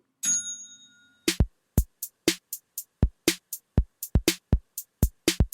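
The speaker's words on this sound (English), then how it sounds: "I think I'm going to ding the bell and on to the next segment." A single bright bell ding rings out and fades, followed by a quick run of sharp, evenly spaced clicking hits, all loud and close with no talk.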